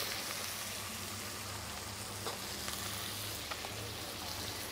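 Half a pound of shiitake mushrooms frying in a pan give a steady, soft sizzle with faint pops and light stirring noises, even and moderately quiet throughout with no voices.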